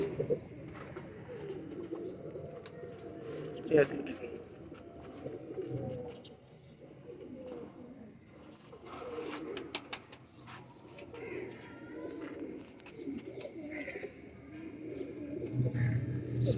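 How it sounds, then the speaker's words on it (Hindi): Teddy pigeons coo softly and repeatedly in low, throaty murmurs, with occasional chirps and faint background noise, fairly quiet and close. "बहुत अच्छे कबूतर हैं ये"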